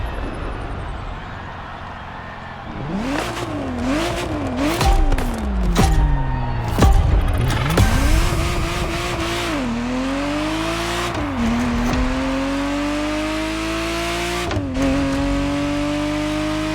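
A Ferrari Testarossa in the video game The Crew Motorfest revs loudly, its engine rising and falling through repeated throttle blips and gear shifts, with thumps and a sustained climbing drone, no talk.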